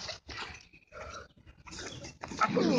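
Dogs give a run of loud, rough barks and yelps in quick bursts separated by short gaps, close to the listener, with no talk over them.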